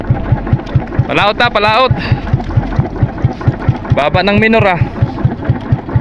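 A fishing boat's single engine chugs steadily at close range with a regular pulsing beat, while someone speaks over it in two bursts and wind buffets the microphone.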